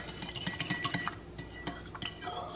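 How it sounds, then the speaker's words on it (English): Fork clinking and scraping against a bowl while mixing melted butter and milk, with quick rapid taps at first, then slower scattered clinks, soft and close. "I've got a fork here just to make sure it's just mixed together"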